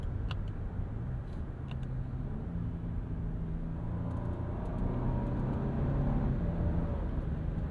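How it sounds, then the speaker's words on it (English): A steady V6 engine drone hums inside a moving 2025 Nissan Armada SUV with a 9-speed transmission, rising slightly in pitch as it accelerates, with a low road rumble underneath. "that V6 in this Armada does exist in the background"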